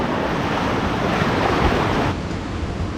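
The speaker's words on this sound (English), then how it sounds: "That tide is coming in a lot faster." Ocean surf from an incoming tide washes steadily at a coastal campsite on Red Bluff, a continuous rushing roar with some wind noise on the microphone that softens slightly near the end.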